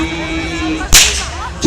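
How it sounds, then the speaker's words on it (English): A single sharp, loud whip crack from a stage performer's show, sudden and close, breaking through a steady background hum. "he loves cracking those whips"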